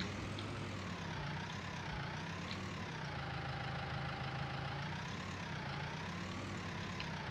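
A tractor engine idles steadily in Farming Simulator 19, a continuous mid-pitched hum with slow rising and falling tone and a faint rhythmic knock, moderately close and uninterrupted by talk.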